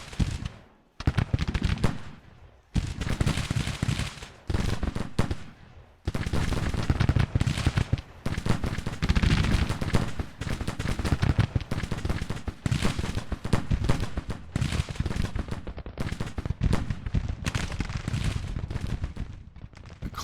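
Musket volleys rattle from a Grand Tactician: The Civil War battle near Franklin, with dense crackling gunfire in rolling bursts separated by short lulls, loud and close with no talking.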